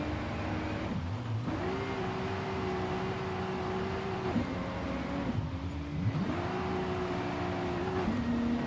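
A JDM car accelerating in a driving video game, its engine note climbing steadily, dropping at each gear shift and rising again, a moderately quiet, continuous drone with no talk.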